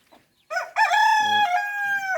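A rooster crows once, loud and close, a long drawn-out call after a brief faint sound.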